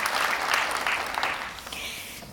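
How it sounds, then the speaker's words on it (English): An audience gives a short burst of applause for a speaker, a dense rush of clapping that softens and thins out over a couple of seconds. "An applause for you."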